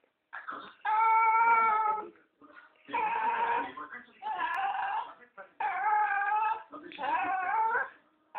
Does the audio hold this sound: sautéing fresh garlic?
no